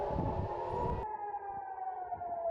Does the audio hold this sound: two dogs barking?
no